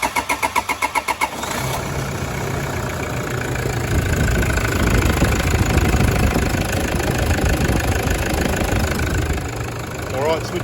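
A car engine cranks with a rapid starter chatter, then catches and settles into a steady, loud idle after its fuel pipe was replaced; a voice speaks over it at one point.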